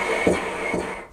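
Euphonium played with tongued air but no lip buzz, giving two short breathy puffs of air rather than a tone, close and soft, with no talking.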